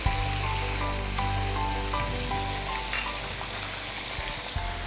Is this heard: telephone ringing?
no